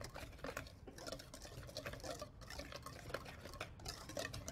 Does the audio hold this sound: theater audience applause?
no